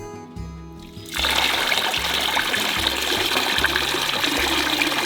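Clay and water poured through a handmade sieve of gathered mountain wood and broom into a bowl, a steady close splashing trickle that starts abruptly after a quiet start and runs continuously over a low rhythmic background tone.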